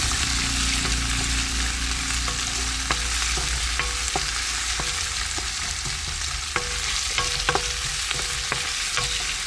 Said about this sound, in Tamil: அப்படியே போட்டு வதக்கி விடுவோம்.